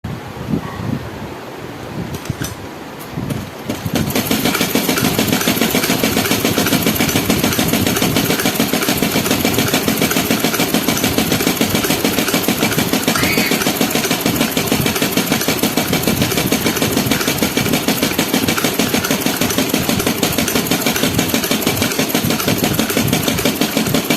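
A sewing machine runs steadily for a long continuous stretch while stitching a balloon sleeve, a dense constant whir that starts after a few seconds of quieter handling noise and holds loud and close without talk.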